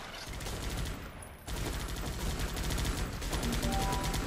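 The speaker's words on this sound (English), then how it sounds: "So I'm gonna let my dudes eat a couple shots here." Rapid bursts of gunfire from the video game Guns Up!, dense and continuous with repeated rattling shots throughout, a brief dip in the middle before the shooting resumes just as loud.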